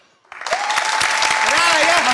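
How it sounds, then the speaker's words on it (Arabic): A television game-show studio audience claps for a few seconds. The applause starts abruptly and stays dense and loud, with a voice speaking over it. "اعطيونا 3 سكوند تصفيق على راية"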